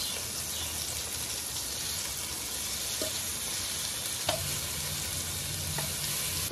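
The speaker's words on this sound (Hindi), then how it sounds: "अब हम लोग इसको पलटेंगे और दूसरी साइड का फ्राई करेंगे।" Chicken breast fries in a pan with a dense, continuous sizzle and crackle, steady throughout, with a few faint clicks of a utensil against the pan.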